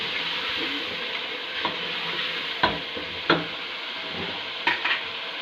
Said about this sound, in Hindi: ये सारी चीज़ें डाल के इसको भूनेंगे